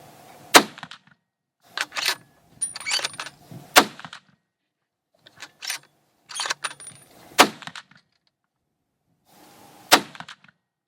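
A Ruger American rifle, a light bolt-action model, fires at an outdoor range, several sharp loud reports spaced a few seconds apart with brief ringing echoes and handling noise between shots.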